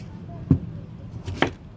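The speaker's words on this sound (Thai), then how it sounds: "เรามาดูการหั่นเพื่อความเพลิดเพลินนะคะ" A knife slices through juicy, sweet, crisp fruit on a board, two distinct chopping thuds about a second apart, close and fairly quiet, against soft background noise.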